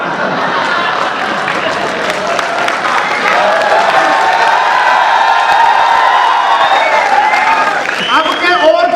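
An audience at a Hindi stand-up comedy show applauds and cheers, a loud, dense wash of clapping and crowd noise that swells and holds steady for several seconds.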